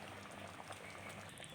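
Gram flour curry for a wheat-flour puri meal bubbles in a pot with a soft, steady, close-up burbling of boiling liquid throughout.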